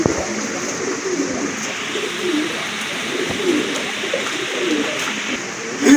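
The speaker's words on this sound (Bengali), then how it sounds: "বিগ সাইজের এক জোড়া রেড চেকার কবুতর আছে এখানে" Red checker pigeons coo steadily throughout, overlapping low throaty calls over a dense, continuous background of bird noise.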